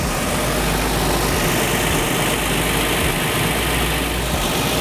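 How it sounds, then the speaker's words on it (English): Car engine idling about an hour after Blue Devil head gasket sealer was added, recorded close up: a steady, dense, broadband mechanical rumble and hiss that holds unchanged throughout, no talk. "So the engine's been running for about an hour now"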